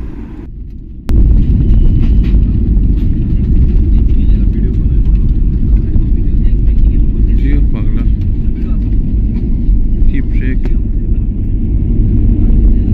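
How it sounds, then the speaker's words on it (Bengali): A passenger airplane touching down at Agartala's Bir Bikram airport: a sudden loud, steady roar of engines and rolling rumble heard from inside, holding for many seconds. "জাস্ট এই ল্যান্ডিং করলো আগরতলা এয়ারপোর্টে"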